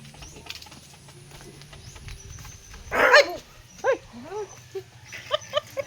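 A dog-like bark rings out sharply, then several shorter yelps follow in quick, uneven succession over a quiet background.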